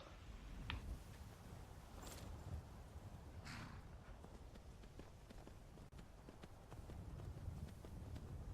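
Horse hooves in the video game Skyrim clip-clop steadily at a walking pace over a low ambient hum, fairly quiet and close, with no voices.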